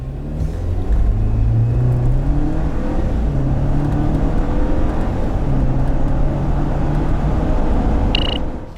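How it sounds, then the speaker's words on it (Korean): A 2019 Jeep Wrangler Sahara 2.0T accelerating hard in two-wheel mode during a performance test, its engine revving up through several gear changes, loud and close, ending with a short beep. "이와 같은 차 과연 얼마만큼의 가속 성능을 보여줄지 한번 볼까요?"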